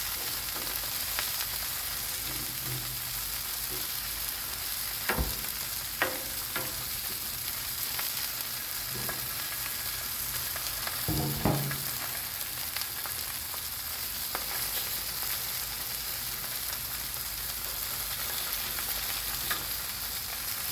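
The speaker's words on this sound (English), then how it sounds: "I've sliced the potatoes so they're about a 1/4 inch thick. And we're just going to put these on here just like this." Sliced potatoes, about a quarter inch thick, fry on a Blackstone griddle with a steady close sizzle throughout, broken by a few soft clatters as pieces are set down. No one speaks.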